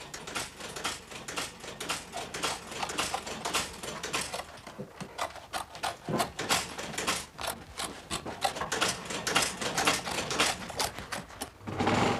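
Surplus flax webbing trimmed away on a saddle by a saddler, close dry rubbing and cutting scrapes in uneven, rapid bursts with brief pauses, no voices.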